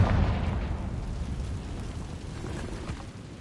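A Confringo fire spell explodes in Hogwarts Legacy, a loud low boom that decays into a rumbling, crackling tail over a few seconds, with no talk over it.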